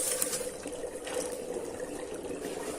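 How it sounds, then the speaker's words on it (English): Dry ice dropped by the handful into an alkaline indicator liquid at pH 11 to 14, giving a steady, continuous fizzing and bubbling hiss that stays fairly even throughout, with no talking. "drop in a handful of dry ice and look at the colour changes"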